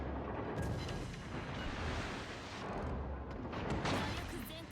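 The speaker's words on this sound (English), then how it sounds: "She is gonna turn to try to fire her guns at me" Warship guns fire in the World of Warships video game, deep booming salvos rolling over a constant battle rumble, loud and dense, with rumbling blasts stacked over one another.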